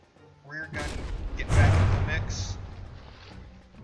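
Gunfire in the From the Depths naval combat game, a tournament battle between vessels: a burst of booming shots and thuds rising to a heavy peak mid-clip, with someone talking over it.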